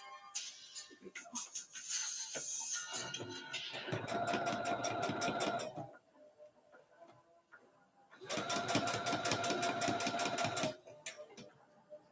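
A home sewing machine stitching in two fast, rapid-rhythm bursts with a lull between them, someone talking softly in the quieter stretches.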